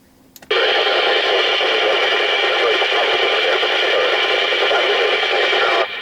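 A steady burst of radio hiss and carrier noise from a Radiomobile CB201 FM CB radio transmitting on low power, 400 milliwatts, switches on abruptly, holds evenly loud for several seconds, then cuts off.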